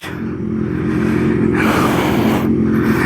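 Kawasaki motorcycle, a ZX-6R or Z800, ridden on a winding road, its engine a steady close rumble with rising revs and wind noise throughout, no voices.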